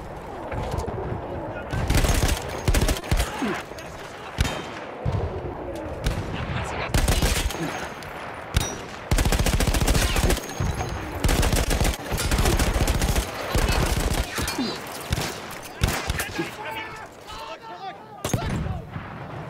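Heavy gunfire rings out in the World War I shooter Battlefield 1, with dense bursts and bangs packed closely together for the whole stretch, loud and continuous with only brief gaps.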